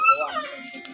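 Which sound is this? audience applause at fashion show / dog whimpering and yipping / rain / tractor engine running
dog whimpering and yipping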